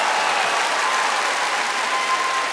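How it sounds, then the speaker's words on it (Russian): Dense audience applause fills a comedy-league battle show in Dnipropetrovsk, steady and loud from start to finish, a continuous wash of clapping with no voices on top. "Ваши аплодисменты!"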